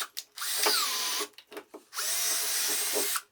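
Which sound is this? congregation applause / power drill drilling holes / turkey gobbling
power drill drilling holes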